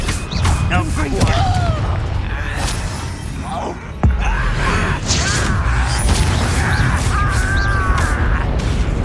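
A Confringo explosive spell in the Hogwarts Legacy game: a dense battle mix with sharp cracking impacts, one hard bang near the middle, and combat noise all around, with voices nearby.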